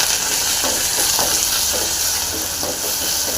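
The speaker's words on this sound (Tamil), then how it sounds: "வெங்காயம் நல்லா ஃப்ரையாக இருக்குது" Onions frying in oil for a dried anchovy curry give a loud, steady hiss of sizzling, with soft scraping strokes as they are stirred in the pan close by.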